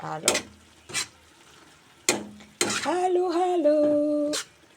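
Pechay greens being stirred in a pan, with a few sharp utensil knocks against the metal followed by a steady scraping stir, while a voice talks over part of it.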